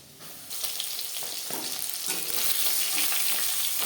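Rohu fish frying in oil in a pan, a sizzle that jumps up suddenly and then swells louder and more crackly, heard close with no voices.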